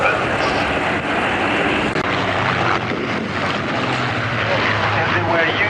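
A Spitfire Mark 16 propeller fighter roars steadily overhead at the Duxford Flying Legends air show, its loud engine drone continuous throughout, with a commentator's voice over the public address system mixed in.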